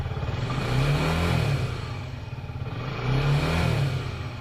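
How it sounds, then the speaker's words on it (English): Suzuki Gixxer SF 250 motorcycle engine revved up to 4000 rpm, two rising and falling throttle blips close by, loud and steady with no talking. "Now I'll rev the bike up to 4000 rpm"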